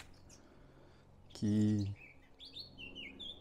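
A small bird chirps outdoors in a springtime permaculture garden, giving high, quick tweets in short bursts, with a loud low voice cutting in partway through.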